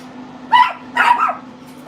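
Two dogs bark excitedly at an arriving visitor, loud close bursts in two clusters about half a second apart, with a third starting at the end over a steady low hum.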